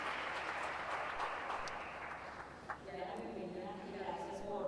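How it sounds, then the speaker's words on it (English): Audience applause at a plenary conference session, a dense, steady wash of clapping that fills the room for several seconds and then thins out into scattered claps near the end. "let's give her a round of applause"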